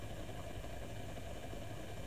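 A 200-watt washing machine motor running as a rotoverter in a compensation setup with a 2.5 kW generator gives a steady, even hum with no change in level, and nobody speaks.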